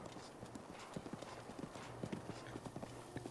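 Rhythmic clip-clop of a horse's hooves galloping in a video game, a quick run of light, evenly spaced thuds against a quiet ambient background, moderately close and without speech.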